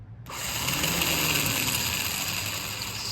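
The starter motor on a 1984 Honda Goldwing GL1200 engine spins its gear after a brief pause, giving a steady, close, loud mechanical whir that holds evenly for about three seconds.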